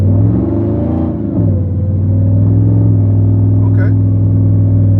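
A Ram TRX pickup pushes through deep snow, its engine droning loud and close with a steady, layered whine that dips briefly and then holds.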